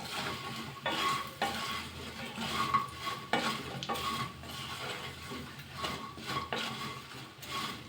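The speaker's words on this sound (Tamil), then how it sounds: "ஒரு வாட்டி நல்லா மிக்ஸ் பண்ணிவிட்டு கிழங்கு உள்ளே சேர்த்துடலாம்." Taro (cheppankilangu) roast being stirred in a pan, continuous close sizzling broken by repeated scraping strokes of a spoon against the metal, with occasional utensil clinks.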